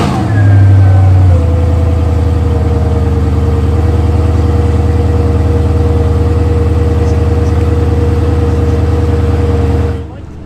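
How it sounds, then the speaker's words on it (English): Koenigsegg Regera supercar engine running up close, a loud steady mid-pitched hum with a brief higher rev at the start, holding constant for about ten seconds before cutting out. "This is the Koenigsegg Regera."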